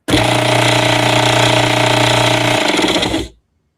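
An Appion G5 Twin refrigerant recovery machine with a broken fan runs loudly, a harsh continuous rattling hum held steadily for about three seconds before cutting off abruptly.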